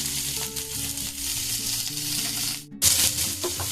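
Samosa filling with spices frying in a pan, a steady broadband sizzle with some stirring scrapes, briefly cut off near the end before resuming.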